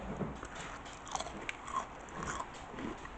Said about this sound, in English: But still, there's a good crunch to it.